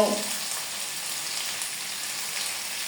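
Steady oily sizzle of potatoes frying in a pan with chopped onion, ginger paste and garlic paste, a soft, even hiss like light rain throughout.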